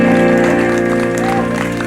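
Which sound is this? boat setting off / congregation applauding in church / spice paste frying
congregation applauding in church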